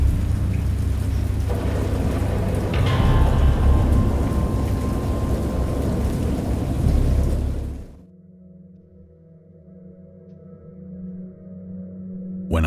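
Heavy storm noise of thunder and pouring rain, loud and broadband, rumbling steadily for about eight seconds before cutting off to a quiet low hum.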